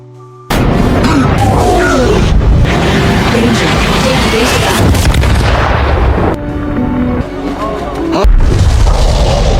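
A loud, sustained burst of explosive rumbling and crackling from an Ultraman battle fills the scene, with the roar shifting and surging in waves before cutting off abruptly.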